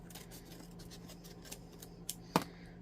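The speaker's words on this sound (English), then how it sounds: "May have to trim a little off the top here" Scissors trimming leftover paper scraps, faint close snips and soft rustles with one sharper cut near the end, quiet overall.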